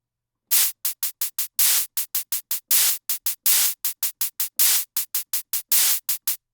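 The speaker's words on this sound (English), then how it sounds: "So I've made these hi-hats that I use all over the place, like synthetic hi-hats, like drum machine hi-hats." Synthetic drum machine hi-hats built from white noise play alone in a steady rhythmic pattern, crisp short hissing ticks alternating with longer open hits, loud and dry.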